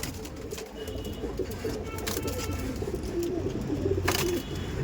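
Giribaz pigeons coo softly and repeatedly in a low, rolling rhythm, close by in a loft, with faint background rustling and occasional clicks.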